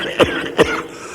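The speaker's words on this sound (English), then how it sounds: "How long have you had that cough?" Two harsh, throaty coughs from a single man, close and distinct, spaced about half a second apart with a quiet pause after.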